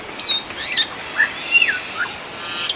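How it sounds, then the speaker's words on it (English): Birds in a Hong Kong aviary give several clear, high chirps and short whistled calls, spaced irregularly and fairly close, over a quiet ambient background with no talk. "this aviary has been way better than I expected"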